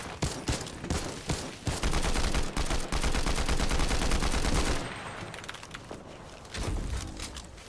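Rapid automatic gunfire rattles in dense bursts as a supply drop is shot down in a video game, loud and continuous for several seconds, then a short pause and a final burst.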